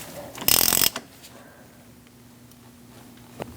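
Ratcheting wrench tightening the front axle nut on a 2000-2006 Mini Cooper, a loud burst of rapid clicks lasting about half a second, followed by quiet hum and a single faint click later.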